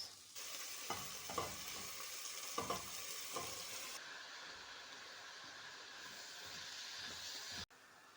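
Herbs for an Iraqi sabzi stew sauté in oil with a soft, steady sizzle, a few spoon scrapes against the pot early on, then a continuous quiet hiss that cuts off abruptly near the end.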